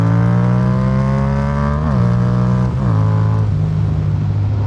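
A homemade adventure motorcycle engine runs with a loud, close, humming drone. Its pitch dips and recovers twice before settling steady.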